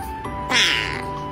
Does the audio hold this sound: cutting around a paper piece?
no